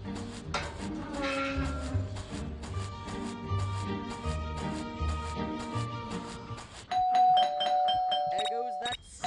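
Doorbell chimes ring in the video game Scary Teacher 3D over busy game music and effects, with a clear bright electronic ding-dong standing out loudly near the end.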